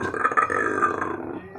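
A boy imitates a camel with one close, throaty, gurgling groan lasting under two seconds.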